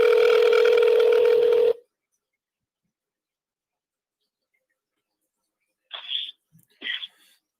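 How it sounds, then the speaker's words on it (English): Phone call being placed: a steady loud dial or ringback tone for nearly two seconds, then silence, followed by two short bursts of connection noise or voice. "I'm calling Tyson right now"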